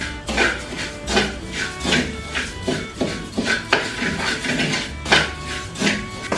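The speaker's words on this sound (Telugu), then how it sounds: "ఇలాగా ఇంకా మాడకుండా తిప్పుతూనే ఉండాలన్నమాట" A spoon scrapes and clinks around a pan as a homemade sweet is stirred continuously to keep it from burning, with rhythmic metallic scraping strokes close up and no talk.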